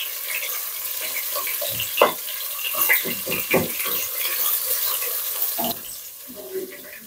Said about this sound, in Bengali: দিয়ে এই সব কিছুকে হালকা করে একটু ভেজে নিব, খুব বেশি ভাজা যাবে না